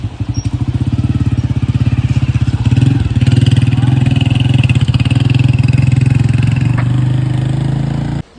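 A motorcycle engine idles and putters close by on a mountain road toward Naran, a steady rapid thumping that swells slightly mid-way and then cuts off abruptly at the end.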